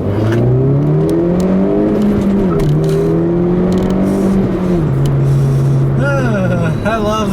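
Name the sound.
turbocharged Mini car accelerating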